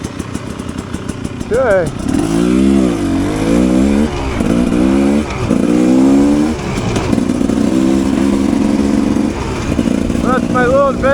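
A 2022 Rieju Ranger 300 dirt bike fitted with an FMF Gnarly pipe and FMF Turbinecore 2.1 muffler, two-stroke engine revving loud and close in repeated rising and falling bursts after a brief spoken word, as if idling and blipping after a singletrack ride in the woods.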